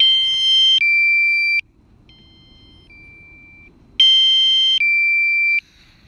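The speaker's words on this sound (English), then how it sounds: "Oh, I wish there was a button I could click to stop that beeping." DJI Mavic Air drone controller sounding its three-minute low-battery warning: two loud, close bursts of piercing electronic beeps, each a pair of high tones, separated by a quiet gap with faint background hiss.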